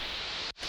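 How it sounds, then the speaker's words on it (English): Synthesized white noise as a layered production effect, a steady hiss that stays flat and even before a brief dropout near the end, then resumes, with no voices. "just some white noise"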